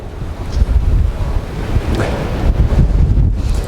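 Strong, blustery winter wind sweeps across Porthmadog golf course in North Wales, producing a loud, steady roar that buffets the microphone for the whole stretch.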